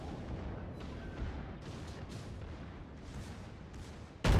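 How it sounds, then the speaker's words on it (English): USS North Carolina battleship guns fire a salvo in a naval video game, muffled rumbling booms rolling under a low din, ending in a sudden loud blast. "This next salvo."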